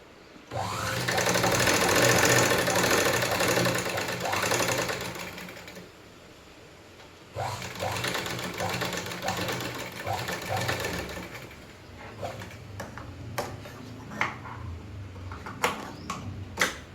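A sewing machine stitching in a home, running in long continuous whirring bursts with a pause between them, then stopping and giving way to scattered clicks and handling noises.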